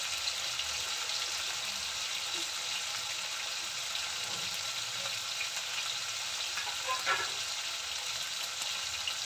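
Potato, pointed gourd and green chili frying in a pan, with a steady close hiss and sizzle throughout and a few faint stirring scrapes, no talking.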